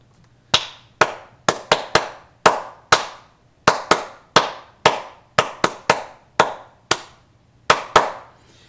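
Sharp, stadium-style hand claps ring out alone in an irregular stream of about sixteen loud, crisp hits, like the ballpark sports clap heard over a PA at a ball game, each with a brief echoing tail.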